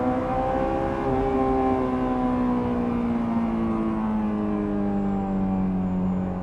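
Honda S2000 engine runs at high revs, a loud, close, smooth mechanical wail holding steady and slowly sinking in pitch as the revs ease off, with no talking.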